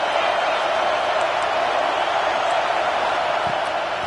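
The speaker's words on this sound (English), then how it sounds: "This dog crowd is off the leash, and they are coming after them, bringing noise on third down." A dense, steady roar from a stadium crowd in a college football video game, Georgia against LSU, loud and unbroken throughout.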